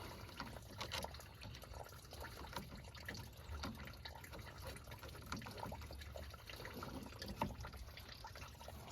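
Coolant drains from the radiator of a third-generation Toyota 4Runner as a faint, steady trickle and splash of liquid that runs on continuously under a low background hum.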